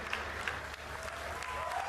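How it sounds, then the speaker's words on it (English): Audience applause at the BlizzCon 2011 StarCraft II final, a steady dense wash of clapping from a large crowd filling the hall without pause. "Give him a round of applause, ladies and gentlemen."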